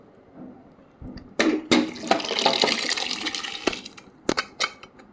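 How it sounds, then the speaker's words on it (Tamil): Water splashes and pours in a rushing burst into a black-eyed pea curry, lasting a few seconds, with sharp clattering knocks before and after, close and fairly loud. "இதை வந்து நம்ம தண்ணியோடு சேர்த்து குழம்புல ஊற்றிக்கலாம்"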